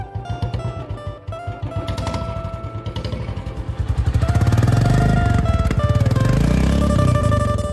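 A motorcycle engine is kicked over and started, its loud rough clatter building into a steady, throbbing idle that grows fuller and louder partway through.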